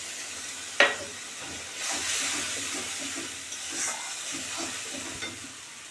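Tomato paste hits a hot pan for egg curry, opening with a sharp burst of sizzle that settles into a steady hiss with soft stirring scrapes, close up with no voices.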